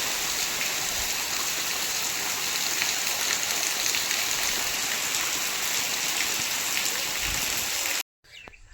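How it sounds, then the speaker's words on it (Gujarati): Heavy monsoon rain pours down near a parked Fortuner, a dense, steady hiss of water on surfaces that fills the whole scene before cutting off abruptly near the end. "તો ખૂબ જ વરસાદ આવી ગયો છે."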